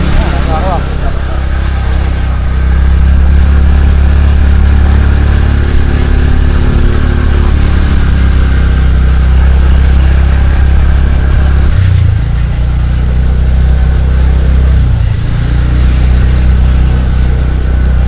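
A car creeps slowly up the NH 55 Hill Cart Road between Siliguri and Darjeeling via Kurseong, its engine a loud, constant low rumble with road noise throughout and occasional voices inside the cabin.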